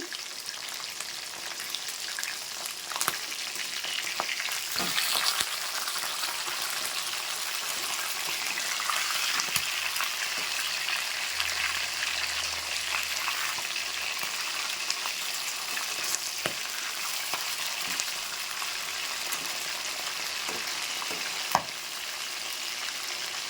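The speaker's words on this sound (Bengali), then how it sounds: "আমার কিন্তু রীতি মাছগুলো ভাজা হয়ে যাচ্ছে এপিট করে আর খুব ফোটে" Fish pieces frying in hot oil, a steady dense crackling sizzle heard up close and continuously, with occasional sharper pops and spatters, no voices.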